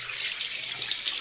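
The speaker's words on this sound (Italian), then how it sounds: "C'è bisogno di aprire l'acqua." Tap water running steadily into a sink during handwashing, a continuous bright hiss and splash at close range with no voices over it.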